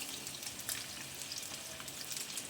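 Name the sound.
eggs frying in cooking oil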